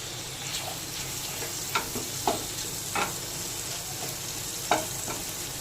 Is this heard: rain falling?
no